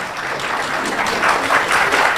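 Dense audience applause at a political speech rolls on steadily, swelling slightly in the latter half, with scattered claps and crowd noise throughout.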